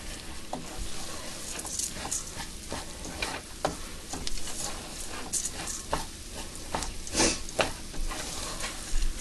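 Pasta fries in oil with onions and garlic in a pan, giving a soft steady sizzle broken by repeated scraping stirs against the bottom, close and fairly quiet, with no talking.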